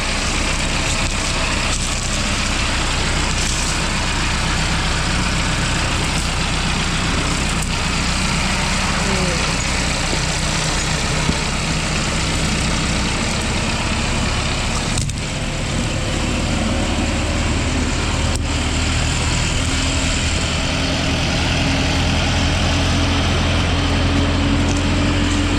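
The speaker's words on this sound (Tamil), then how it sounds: "வண்டி ஓட்டிகிட்டு இருக்கிறோம்." A Mahindra Novo 755 tractor drives through a banana plantation after climbing down from a water channel. Its engine makes a loud, steady drone that runs unbroken from start to finish.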